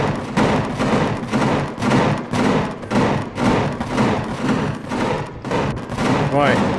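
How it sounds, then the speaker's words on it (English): Gatling turrets fire in the space game Empyrion Galactic Survival, loud rapid bursts of gunfire pounding in a continuous rhythmic barrage, with a brief voice near the end. "I think only the Gats are really shooting at the moment."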